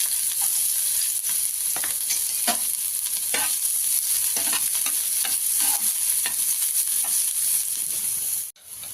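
Onion and green chili fry in a pan with a loud, steady sizzle, broken by repeated spoon scrapes and stirring clatters, ending in a brief dropout and a quieter hiss.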